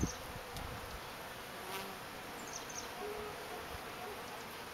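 Honey bees buzz around an open hive during sugar feeding, a soft, steady drone of many wings with a few louder passes close by, faint and unbroken throughout.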